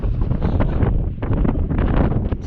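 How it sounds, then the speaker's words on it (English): Strong gusting wind on a Cruach Mhor mountain hike buffets the microphone with loud, continuous low roaring rumble and no speech. "Unfortunately, the wind is just too much."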